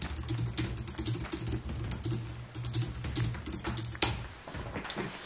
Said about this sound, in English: Almost got normal typing back.